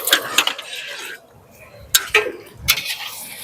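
Fried potatoes tipped into a pan of cooked chicken and spices, with a few sharp metallic clanks and scrapes of a spoon against the pan, separated by brief quiet gaps, with a voice talking between them.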